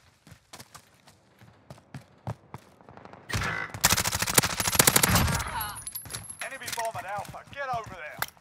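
Modern Warfare 2019 submachine gun fire: scattered single shots give way to a loud, dense burst of rapid automatic fire that trails into clatter. A voice speaks over parts of it.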